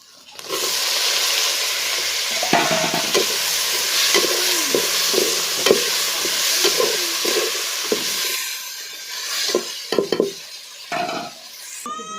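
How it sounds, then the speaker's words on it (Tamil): A pan sautés for country chicken curry with a loud, continuous sizzle. Repeated scrapes and clinks of a spoon stirring against the metal pan run throughout, busiest toward the end. "நல்லா வதங்கணும் இதோட பச்சை வாசனை போனோன்னா தக்காளி போடலாம்"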